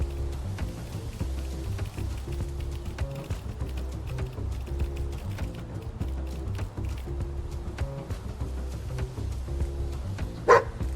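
A dog barking in the video game Squirreled Away, repeated short woofs in a steady rhythm over looping game music and light clicking, with no talking.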